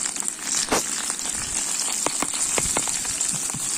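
Curry leaves and green chillies dropped into hot oil for a beef fry crackle and sizzle close up, with a steady hiss broken by sharp popping spits throughout.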